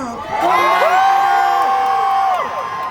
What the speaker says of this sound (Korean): 여러분 함성 한 번만 질러주세요